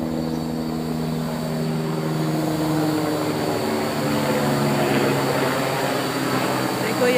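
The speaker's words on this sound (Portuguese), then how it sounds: "helicóptero." A helicopter flies over a rooftop terrace, its loud, continuous rotor and engine drone holding steady, then shifting in pitch as it passes overhead.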